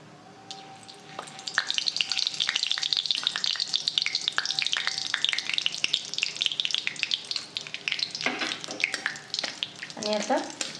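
Whole spices sizzle and crackle in hot oil in a kadai, a dense steady frying hiss with sharp pops, close and loud, brief clinks of a utensil near the end.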